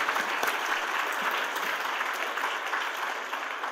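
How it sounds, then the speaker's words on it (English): A crowd at a comics festival evening event claps for a sponsor, steady dense applause throughout, fairly loud and even, slowly easing toward the end. "Round of applause for VIZ Media for helping us with tonight's event."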